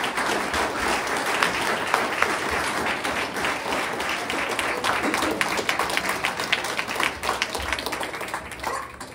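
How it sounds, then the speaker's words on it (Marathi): Enthusiastic audience applause at a Marathi poetry recitation event for participating children, a dense, continuous roar of clapping that holds strong throughout and tapers slightly near the end. "सगळ्या मुलांसाठी 4 to 7 ग्रेडसाठी आणि 8वी ते 10वी सगळ्याच ग्रुपसाठी एकदा जोरदार टाळ्या देऊया आपण"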